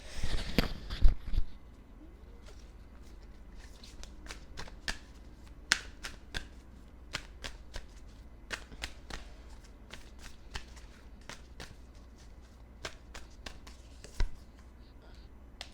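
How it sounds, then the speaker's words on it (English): A deck of oracle cards shuffled by hand during a card reading, a brief louder riffle at the start followed by steady soft shuffling with crisp card slaps spaced through it, close and quiet. "Of course, I'm being drawn to pull more cards. Let's get an oracle card."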